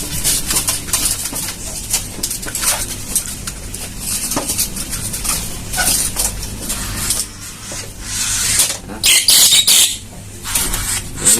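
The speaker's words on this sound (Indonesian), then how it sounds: "katanya cucak rawo dari Hong Kong ini" Birds at an animal market in Jatinegara, including a straw-headed bulbul (cucak rawo), give sharp squawks and chirps over busy market noise, with a few wing flaps.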